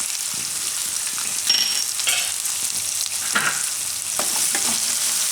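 Ground red chili goes into a hot pan of sprouted methi (fenugreek) pulao, which sizzles and crackles steadily while a utensil stirs and scrapes in several short bursts, close and fairly loud.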